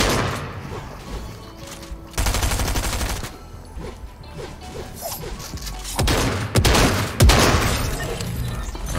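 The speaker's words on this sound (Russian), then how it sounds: "А, это пистолет пулемет жало." Submachine gun fire in the Fortnite video game crackles in rapid bursts, with a louder, denser volley midway and sharp shots near the end over game background noise.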